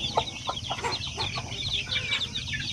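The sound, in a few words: pure Basilan chicken chicks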